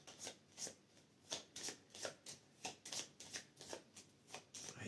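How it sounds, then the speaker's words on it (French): A deck of cards for the board game Earth is shuffled up close, a quick series of crisp riffling bursts in a steady rhythm with brief gaps between. "je vais remélanger son deck"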